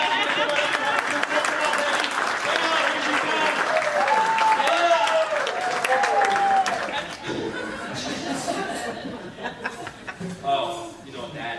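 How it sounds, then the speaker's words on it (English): An audience at a corporate magic show claps for a volunteer, a brief burst mixed with chuckles and laughter, while a voice talks over the crowd; the clapping thins out partway through. "Everyone give Peggy a clap."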